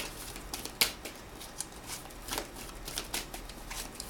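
Soft riffling patter of oracle cards being shuffled by hand, a run of quick light flicks and snaps close up, with one sharper crisp slap early on and no talk.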